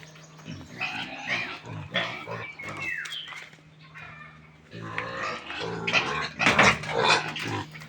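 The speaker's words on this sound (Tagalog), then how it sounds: "Pang-iyak na ng mga baboy" Pigs in a pen let out loud, rough squeals and grunts in overlapping bursts, some short and some drawn out, with brief pauses between; a steady low hum runs underneath and no one speaks.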